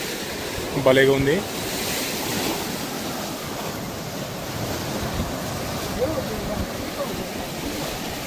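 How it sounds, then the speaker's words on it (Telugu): Ocean waves wash continuously at the shore with wind buffeting the microphone. A person speaks briefly near the start. "water sound"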